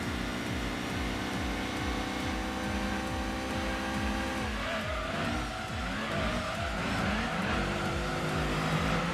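A blue Subaru race car driving in Gran Turismo 2, with a steady, buzzing engine drone that climbs and falls through gear changes, joined midway by squealing tires.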